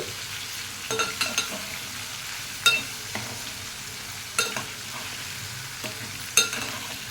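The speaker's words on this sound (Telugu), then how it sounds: "అటువైపు తోటకూర ఫ్రై అవుతుంది" Amaranth leaves frying in a pan, a continuous soft sizzle punctuated by several sharp scrapes and taps of a stirring utensil, close and moderately loud with no talking.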